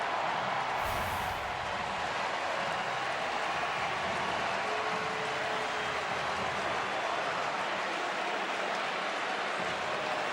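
A steady, diffuse crowd murmur fills Wrigley Field during a Cardinals at Cubs baseball game, an even buzz from many distant voices with no single voice standing out.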